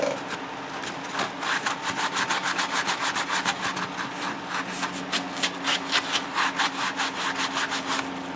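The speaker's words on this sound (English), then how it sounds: "I'm going to sand on it for a while." Sandpaper rubs back and forth in a steady rhythm over a lightweight wooden Strat-style guitar body, close and continuous, with an electric fan droning underneath throughout.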